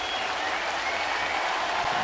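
A baseball stadium crowd at a Blue Jays home game against Colorado, applauding and cheering steadily, a dense wash of clapping that holds for the whole stretch.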